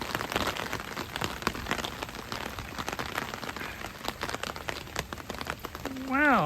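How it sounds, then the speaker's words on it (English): Rain patters on a boat deck in Amsterdam with scattered sharper drops, soft and close, ending with a brief rising electronic tone. "listening to the rain falling on the deck."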